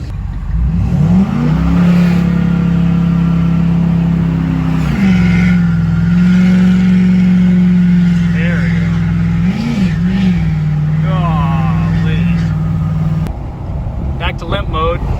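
A Ford F250 engine revs hard and steadily with a slipping transmission, a loud droning tone holding pitch for long stretches with small surges, while someone talks over it.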